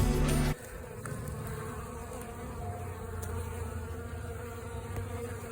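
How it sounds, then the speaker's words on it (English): Honeybees hum continuously near hives on a farm in Iowa, a dense, steady drone heard close by, with no talk and a brief louder rustle at the start. "First stop, bees."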